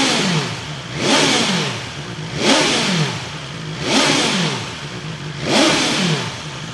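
A BMW S1000XR motorcycle fitted with an Akrapovic slip-on exhaust revs up to 8,000 RPM four times in a steady rhythm. Each loud, close rev swells and then falls back to idle, with no talk over it.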